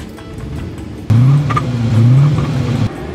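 A 1984 Aston Martin Lagonda engine cranks and catches, settling into a steady, loud idle rumble that continues for a couple of seconds.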